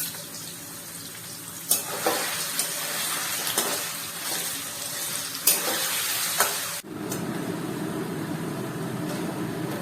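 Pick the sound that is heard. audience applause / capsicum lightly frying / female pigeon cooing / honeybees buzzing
capsicum lightly frying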